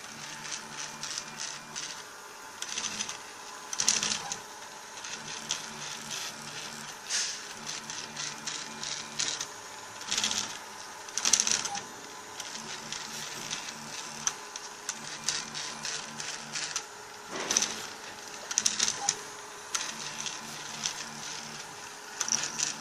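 A 3D printer builds a plastic calibration part with its cooling fan running, giving a steady, close mechanical whir with busy ticking and ratcheting motor patterns throughout.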